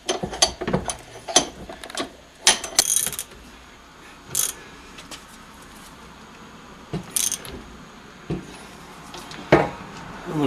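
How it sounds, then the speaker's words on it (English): Metal tool clicks and ratcheting taps while tightening the tapered joint of a Mercedes 300D front end assembly clamped in a vise, scattered sharp bursts over a quiet shop background with no talk. "Now I'm going to put it up in the vise to really tighten it up."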